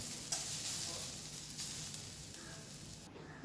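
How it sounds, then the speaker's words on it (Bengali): Carrots fry in a pan for a manchurian dish, giving a soft, steady sizzle with light crackles, close and fairly quiet, with no talking. "আমি গাজরটা ভেজে নিয়েছি"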